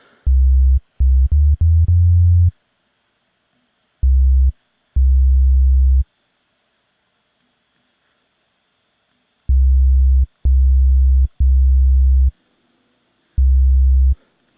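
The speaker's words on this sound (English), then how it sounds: "Let's give it some character so it's not just a sine wave." Synthesizer sine wave tones sound in a series of separate sustained beeps of varying length, some in quick bursts, with silent gaps between them, loud and clean with no other sound.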